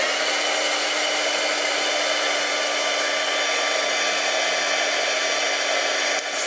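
A heat tool roars steadily at close range, melting embossing powder on a hello card, a loud continuous whirring hiss with no talking.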